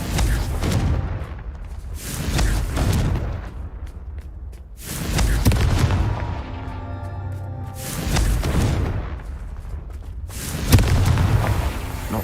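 Blasting-spell explosions from the Confringo spell in the Hogwarts Legacy video game boom repeatedly, with several heavy detonations spaced a couple of seconds apart and ringing tails between them.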